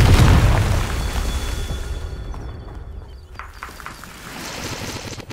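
A Confringo fire-spell explosion in the Hogwarts Legacy video game bursts with a loud deep boom at the start, then a rumbling tail fades over several seconds with faint crackles and debris.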